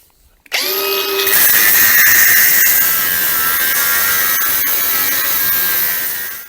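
Power tool cutting metal linkage parts off a damaged bale spike, starting abruptly and then holding a loud, steady, high-pitched whine close by until it winds down, with no speech.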